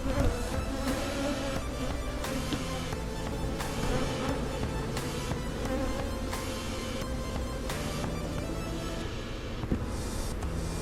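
A dense, steady buzzing of many bees from a swarm in a hive box fills the whole stretch, close and continuous with no talking.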